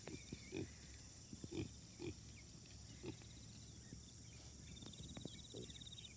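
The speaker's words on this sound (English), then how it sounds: "Look at the pigs." Pigs grunt in short low bursts, several scattered snorts over a quiet farmyard background with faint birdsong, fairly close and unaccompanied by talk.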